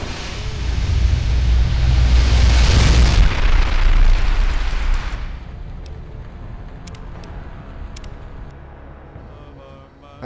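A grenade detonates in Fallout: New Vegas with a loud, heavy boom and a broad roar that holds for a few seconds, then settles into a low, fading rumble with faint scattered clicks.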